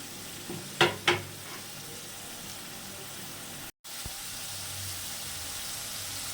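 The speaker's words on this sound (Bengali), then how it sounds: "এবার এটা আমি ভালো করে কষিয়ে নেব।" Chopped banana flower with prawns being sautéed in a pan, a soft steady sizzle with two quick spatula knocks near the start and a brief dropout midway.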